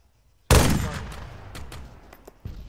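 Gunfire in ArmA 3 during a Wasteland base raid: a loud, sharp shot burst opens after a short silence, followed by a long decaying rumble and a few scattered crisp reports later on.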